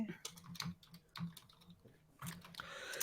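Fingers type on a computer keyboard in quick irregular bursts of clicks, faint and close, with a short pause midway before the tapping picks up again, and no clear talk over it.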